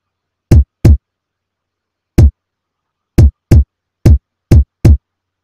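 Drum pattern of a beat programmed in FL Studio 20: eight short, punchy, dry hits in an uneven syncopated rhythm, with complete silence between them.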